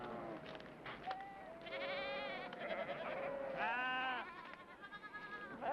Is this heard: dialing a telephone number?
no